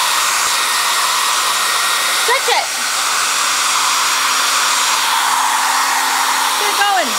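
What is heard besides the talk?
hair dryer blowing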